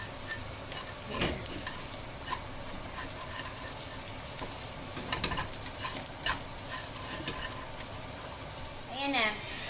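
Onion and garlic sautéing in a pan, garlic toasted first, with steady sizzling and frequent utensil stirring and scraping throughout, a brief squeaky scrape near the end.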